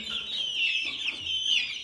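Chickens and a rooster, Indian game (Hint horozu) fowl, give steady high clucking and chattering, fairly close and continuous with no talk.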